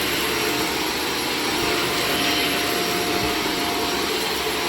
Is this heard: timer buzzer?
no